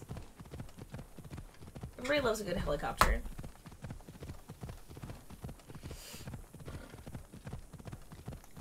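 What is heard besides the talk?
horse hooves clip-clopping in video game Assassin's Creed Odyssey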